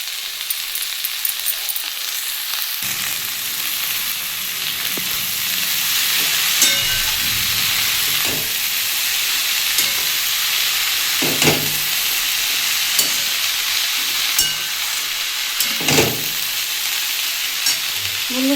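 Kolmi greens (water spinach) hit a pan of fried potato and onion, bringing a louder, fuller sizzle after a quieter start, with occasional spatula stirs and scrapes spaced a few seconds apart, close up.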